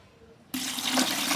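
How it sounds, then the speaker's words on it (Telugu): Water pours suddenly and steadily into a container of watermelon pieces being made into plant fertilizer, a close, loud gushing rush that begins after a brief quiet moment and continues to the end. "ఇప్పుడైతే నేను ఇందులో వాటర్ యాడ్ చేస్తాను"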